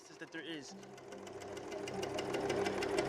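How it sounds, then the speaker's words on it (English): A sewing machine making clothing starts up after someone speaks and settles into a steady, rapid mechanical stitching rhythm that grows louder and continues to the end. "be on a sewing machine making clothing"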